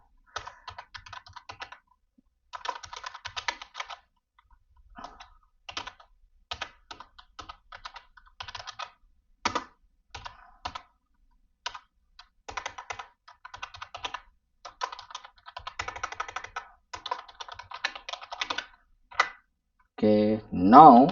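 Keys clack on a computer keyboard as a command is entered, irregular bursts of quick taps separated by pauses, close and clear, ending with a brief louder knock.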